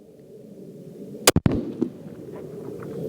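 A single sharp rifle shot fired at a long-range target on an outdoor range, one loud crack with a brief echo, followed by faint outdoor ambience.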